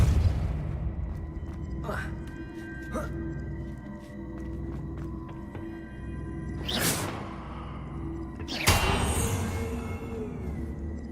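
Accio and Depulso spells are cast in the video game Hogwarts Legacy: several whooshing bursts and booming impacts, two especially strong near the end, over a low rumbling game soundscape.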